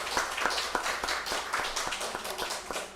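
A church congregation at a Korean Sunday worship service claps in thanks for the choir, a brief, fairly quiet patter of individual claps with distinct hand strikes standing out.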